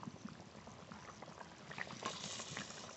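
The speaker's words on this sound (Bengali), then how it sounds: "ঝোল ভালো করে জাল দিয়ে নিয়েছি" A fish curry with potatoes simmers in a pot, giving a faint, steady bubbling and gentle sputtering that swells slightly toward the end, with no one speaking.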